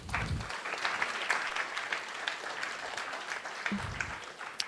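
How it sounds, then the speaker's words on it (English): A crowd claps steadily in sustained applause at a hackathon finals, a dense wash of hand claps at moderate distance with no voices over it. "Okay, perfect. Round of applause."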